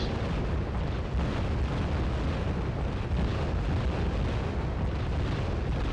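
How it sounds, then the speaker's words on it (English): Incoming mortar rounds explode in the real-time strategy game Red Dragon, a sustained, heavy rumbling of blasts rolling together without a break, loud and low. "There's some mortars coming from here."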